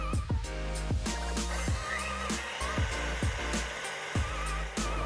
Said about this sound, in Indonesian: Langsung kita mixer lagi.